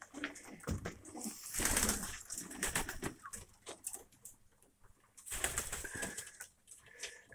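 Pigeons with ruffled feathers are heard up close, with bursts of flapping wings and faint cooing. Two louder flurries stand out among quieter rustling.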